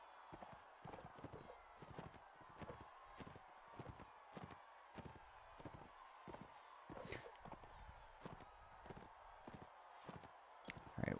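Horse hooves in the video game Mount and Blade Warband, a steady rhythmic clip-clop of a ridden horse at a brisk pace, close and clear throughout, with occasional faint background sounds.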